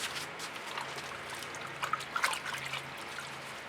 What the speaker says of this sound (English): I'm gonna rinse my fingers.